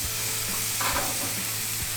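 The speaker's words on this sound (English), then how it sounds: "Those onions are still roasting in there," Onions roasting on a Monument gas grill give off a steady, even sizzle and crackle at a constant moderate level, with occasional low thumps and no voices.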